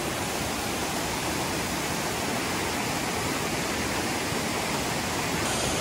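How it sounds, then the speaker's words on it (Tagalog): Waterfall at Mini Asik-Asik Falls in Barangay Tamayong, Kalinan, Davao City, roaring as a steady, dense broadband rush of falling water, close and loud throughout with no break. "Welcome dito sa Mini Asik-Asik Falls na matatagpuan po dito sa Barangay Tamayong, Kalinan, Davao City"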